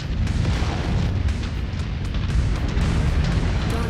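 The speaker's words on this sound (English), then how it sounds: "that AC-10 and the SRM, I guess technically an SRM-10 since we have a 6 and a 4 firing together" AC-10 autocannon and paired SRM-6 and SRM-4 missile launchers firing together in MechWarrior 5 Mercenaries, a dense continuous roar of booming blasts with rapid impacts layered throughout, loud and sustained.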